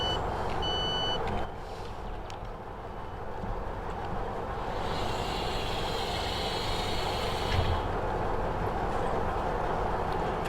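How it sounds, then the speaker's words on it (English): Train doors on a Class 153 diesel unit closing in a Cardiff-area network train simulator, a steady high warning tone and hiss over a constant engine rumble, with beeps early on. "I think the door sound effects are pretty good there."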